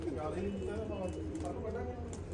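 Pigeons coo softly at a rooftop loft, a faint continuous murmur mixed with steady background hum.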